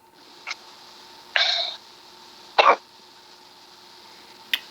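A few short, sharp bodily bursts spaced apart: quick hiccup-like catches and a couple of brief coughs, close and fairly loud over a quiet background.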